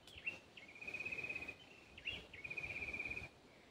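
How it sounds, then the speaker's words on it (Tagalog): Birdsong around a resort surrounded by farm fields. Two thin, high, sustained trilling calls are heard faint and somewhat distant over low outdoor background noise, with no talk. "Ibon, huni ng ibon."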